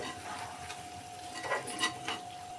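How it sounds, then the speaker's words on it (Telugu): Chicken fries in a pan with curry leaves, green chillies and masala, a steady soft sizzle broken by a few close stirring scrapes, with no voices. "ఫ్రై అవుతుంది కదండి."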